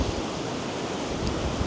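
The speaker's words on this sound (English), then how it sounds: "it is very windy right now" Strong outdoor wind buffeting a microphone, a loud continuous roaring rumble with low thumps and no clear pauses, filling the whole short stretch without voices.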